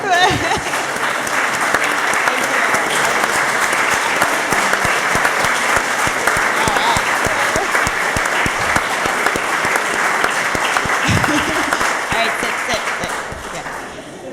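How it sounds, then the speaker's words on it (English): A conference audience applauds at a closing plenary session, giving dense, sustained clapping from a large crowd that stays loud for over ten seconds, then begins to fade at the end; a few voices mix in. "I think we should all get a round of applause."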